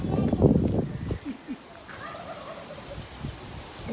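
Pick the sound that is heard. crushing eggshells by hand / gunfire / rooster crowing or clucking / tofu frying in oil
rooster crowing or clucking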